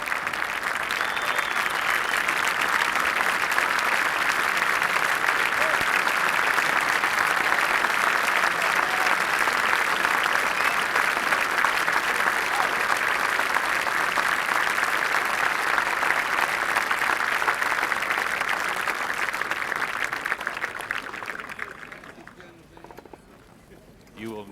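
Golf gallery applause at the Masters Tournament, a dense sustained roar of clapping and cheering from a large outdoor crowd that holds steady for about twenty seconds before fading out.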